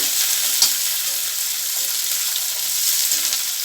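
Bitter gourd pieces sauté in oil for thokku, giving a steady, even hiss of frying with a couple of soft stirring clinks from a spoon.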